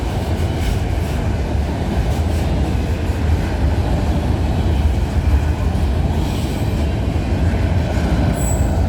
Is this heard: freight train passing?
yes